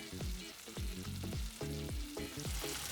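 Chicken soboro simmers in a pan over low heat, giving a steady close hiss with soft, regular bubbling pops throughout.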